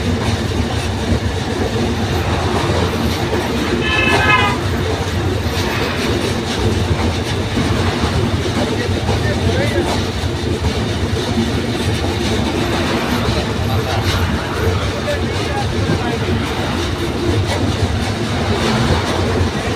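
A passenger train running over the long Jamuna (Bangabandhu) rail bridge at night, heard from on board: a loud, steady roar of wheels on track with rhythmic clickety-clack and a brief high squeal of wheels partway through.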